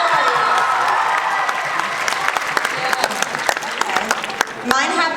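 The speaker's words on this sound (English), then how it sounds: "We should clap after this" A crowd at the VidCon Australia 2018 opening ceremony claps and cheers, a thick wash of applause with sharp individual claps that swells near the end, with some voices in the mix.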